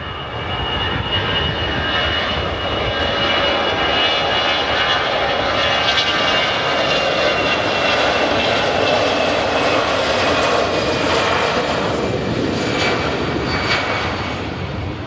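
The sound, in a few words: EasyJet airliner taking off and climbing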